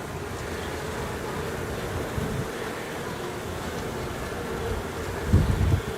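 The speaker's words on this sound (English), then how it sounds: "The wind's picking up." Outdoor wind rumbles steadily against the microphone during a beehive inspection, a continuous low buffeting with a stronger gust near the end.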